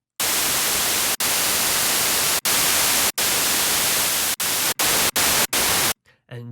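Broadband white noise synthesized in Harmor with gentle soft saturation, a steady loud hiss cut by brief gaps into repeated bursts, with no voices.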